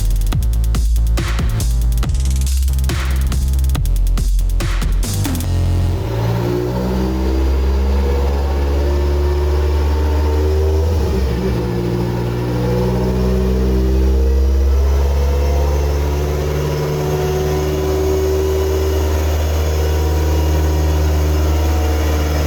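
A boosted 20-valve engine in a Badger 5 Littco car runs on a dyno, starting with sharp clattering bursts before settling into a loud, sustained roar that swells and holds for many seconds.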